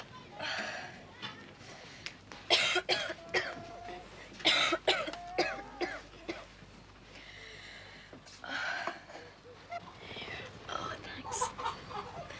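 Several short, sharp coughs in a quiet room, with occasional fowl clucking in the background.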